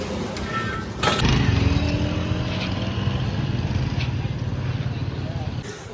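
A motorbike fresh from an oil change pulls off on a test drive: its engine catches about a second in, then holds a loud, steady, close running drone until the end.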